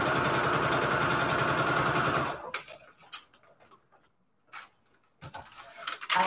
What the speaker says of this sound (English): I'm just gonna keep sewing.